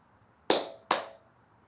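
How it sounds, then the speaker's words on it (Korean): Two sharp hand claps about half a second apart, close and crisp, with brief decays against a quiet background, recorded on a Sony ECM-B10 microphone. "박수 소리."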